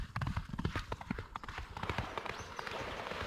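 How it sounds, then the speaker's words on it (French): Horse hooves clip-clop in a quick, steady rhythm on a street in a French town, close and fairly loud against outdoor background noise. "Ouais, ils sont encore aux chevaux ici."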